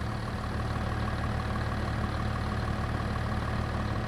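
A tractor engine idles steadily in the game Farm Simulator 25, a constant dense rumble with a low drone, unbroken and with no voices.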